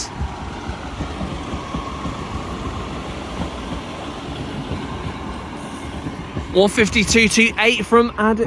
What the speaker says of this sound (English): Arriving in now is 150-228, working a service to Addick from Sheffield.